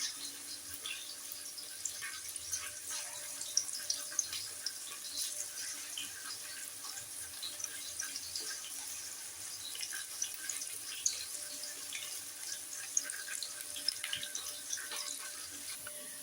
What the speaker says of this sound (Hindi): ऑयल गरम है, बस पकोड़े डालती हूँ।